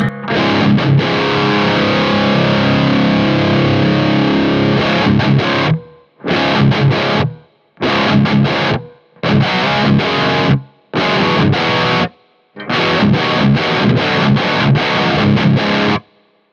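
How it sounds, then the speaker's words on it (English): Heavily distorted black metal electric guitar chugs in bursts, stopping abruptly between phrases, with only a short reverb tail lingering in the gaps. "So that's reverb that you can really only hear the tails of."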